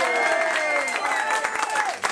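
Audience applause and cheering at a Latin son music show in a casual open-Sunday venue, a dense burst of clapping mixed with lingering band tones and crowd voices.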